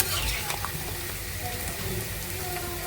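Bitter gourd and other vegetables frying in a pan give a steady, soft sizzle with faint stirring scrapes throughout, fairly close and continuous with no voices.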